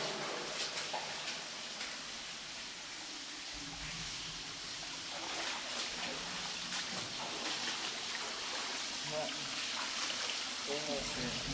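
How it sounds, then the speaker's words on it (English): Water rushes steadily through an old brick underground space with a large cog, a broad constant roar with splashing, while people talk over it. "Quite the rush of water."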